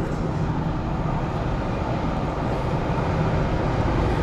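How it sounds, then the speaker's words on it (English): Underground train rumbling through a tunnel in Buenos Aires, a steady, loud low roar that holds unbroken for the whole stretch with no voices over it. "Right now, a train's on its way through here."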